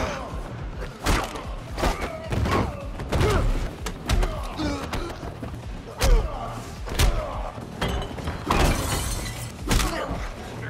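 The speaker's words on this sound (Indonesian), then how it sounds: "Brian pun dihajar Ruiz." Action-film fight with Ruiz beating Brian, a rapid series of heavy thuds, slams and crashing impacts at irregular intervals, loud and close, mixed with faint voices.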